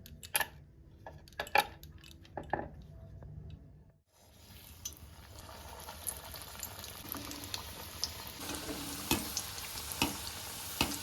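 Spring rolls frying in hot oil, a steady close sizzle that starts after a brief gap, with clinks of utensils and pans and scattered stirring noises over it.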